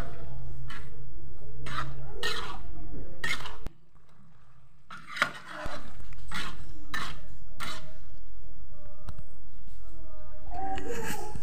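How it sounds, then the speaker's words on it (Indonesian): A spoon scrapes and clinks against a pan in repeated strokes, thick pastry filling with sugar being stirred close by, with a short quieter pause partway through. "Ini diaduk-aduk lagi semuanya."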